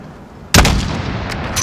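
A single sharp sniper rifle shot rings out in Call of Duty: Modern Warfare 2019 at a 600-meter range, a loud close crack with a long rolling echo tail over quiet ambience.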